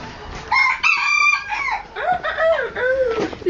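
Silkie chickens on a farm cluck and crow nearby in a loud run of rising and falling calls, several overlapping squawks across a few seconds with no talking.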